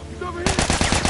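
Rapid automatic gunfire from The Last of Us Part 2 video game rattles in a quick, loud burst of closely spaced shots, following a brief stretch of low background sound.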